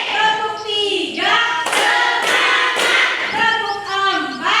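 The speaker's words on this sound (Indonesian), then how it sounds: "Tepuk satu, tepuk dua, tepuk tiga," Children in a classroom clap together in a counted chant, with a few bursts of loud group claps placed between sung, chanted voices.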